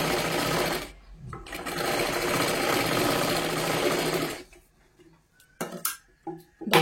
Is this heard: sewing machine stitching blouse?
yes